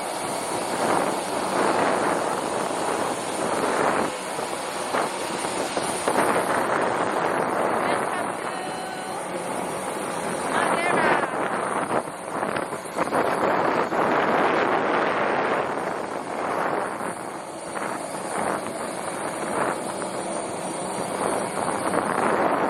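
Strong, steady wind on Madeira island buffets the microphone in a continuous roar, with voices talking faintly underneath.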